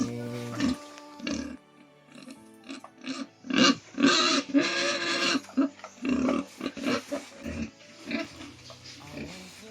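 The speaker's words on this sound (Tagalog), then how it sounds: "Yung mga baboy natin tuloy" Pigs grunt and snort in irregular bursts, several animals close by, with short pauses between the rough, throaty calls.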